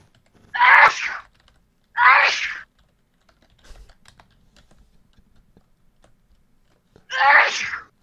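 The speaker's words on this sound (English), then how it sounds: "I was having a sneezing fit." Repeated sneezing fit: three loud, close bursts about a second apart at first, then a longer pause before the third, with only faint rustling in the quiet between them.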